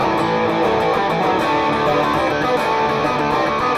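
Electric guitar played through a Marshall JVM410 amplifier on the crunch red channel, giving a dense, continuously distorted, gainy tone that stays steady and loud throughout with no talking.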